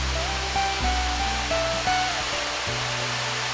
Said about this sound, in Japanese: この左の下りの道の先に布引滝があります。